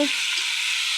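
Onion and curry leaves fry in a pan with a steady, close hiss of sizzling oil and a brief stir at the start.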